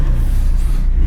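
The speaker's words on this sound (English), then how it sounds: "Just rev it up." A sports car engine revs hard and loud, a steady dense roar that fills the whole moment close up, with no talk over it.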